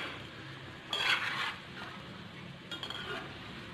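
Gulab jamun balls fry in oil over a low flame, a soft steady sizzle joined by two bursts of metal spoon stirring and clinking against the pan, with no one talking.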